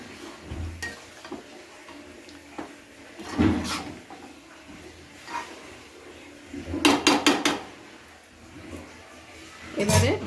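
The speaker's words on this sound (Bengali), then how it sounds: "এবারে ঢাকনা চাপা দিয়ে দিয়ে রান্নাটা করে নেব।" Metal cookware clatters in a home kitchen while spicy chicken curry cooks, with several sharp clinks and knocks, a cluster of quick metallic taps near the end, and a final clank as the lid goes onto the pot.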